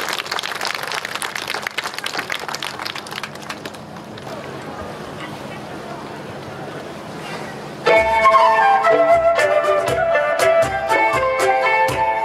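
An outdoor audience at a flower carpet festival in Taichung claps softly and steadily to welcome a Hakka singer. The faint, diffuse applause runs under wind and background noise before a bamboo orchestra enters loudly partway through.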